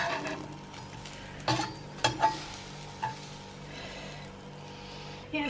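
Crumpets cooking in a frying pan give off a soft, low sizzle, broken by a few sharp clicks and light pan knocks, fairly quiet and close.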